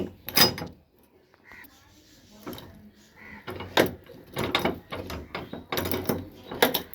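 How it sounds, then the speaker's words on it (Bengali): A metal gate at a temple grounds is opened with a series of close, sharp metallic clanks, rattles and scrapes in irregular bursts, separated by brief quiet gaps. "দেখো গেটটা খুলছি"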